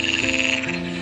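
A frog croaks in a steady, rapid pulsing rhythm, close and clear, with a continuous trilling quality and no talking over it.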